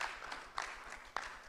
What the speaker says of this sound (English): let's clap for all of our speakers